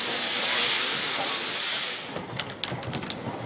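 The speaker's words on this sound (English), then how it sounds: "Number 9 heads a train of coal around to the exchange sidings." A steam locomotive hauls a coal train around to exchange sidings at a Kent colliery, giving off a steady, fairly loud hiss of steam that fades after a couple of seconds into a few sharp clanks and clicks.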